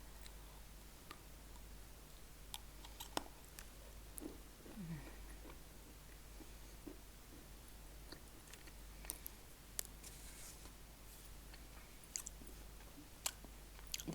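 Kurt, a salty dried curd snack, being chewed with soft crunches and clicks, close and quiet over a low background hum.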